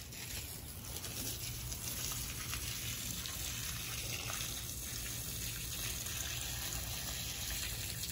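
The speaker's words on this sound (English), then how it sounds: "Give them a little taste of water, they'll come back to life." Water pours steadily onto small potted plants, a soft continuous splashing and trickling that runs unbroken at low volume, with no talking.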